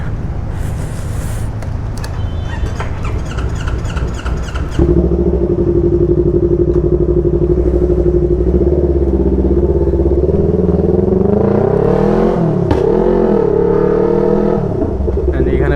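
A motorcycle rides along a road in the rain, its engine droning steadily and loud throughout, rising in pitch as it accelerates, with brief clattering early on.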